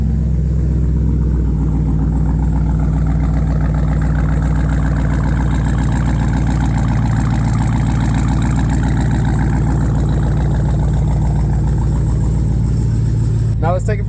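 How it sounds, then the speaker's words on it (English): A Dodge Durango SRT fitted with an aftermarket exhaust idles steadily, its loud, deep rumble holding throughout with low voices over it. "see what it sounds like as it's dropped in. This is not stock. The customer does have exhaust work done to it."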